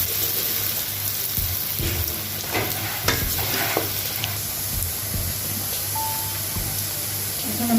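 Chopped onions fry in a pan for a vegetable khichuri, giving a steady close sizzle with occasional stirring scrapes, with no one talking.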